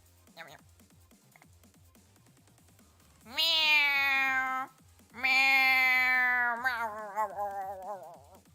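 A cat gives two long, loud meows close up, the second drawn out and wavering at the end, with soft ticking and tapping sounds underneath.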